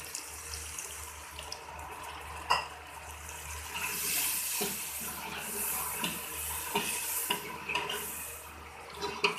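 Water poured into a cooking pot of spiced masala (cumin, dried coriander, red chillies) for a village dal gosht curry, a steady splashing pour with a few clinks, moderately close, no talk.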